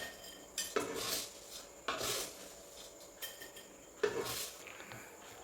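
Fried vermicelli scooped out of a pan into a bowl, heard as three or four close metallic scrapes and clinks of a spoon against the vessels, spaced about a second apart, with quiet gaps in between.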